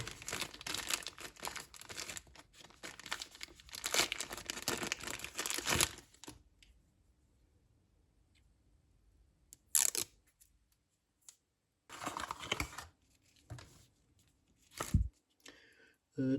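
Packaging for a Xiaomi Smart Band 9 fitness band being opened, with several seconds of close crinkling and rustling followed by quiet, then a few sharp crackles and handling noises.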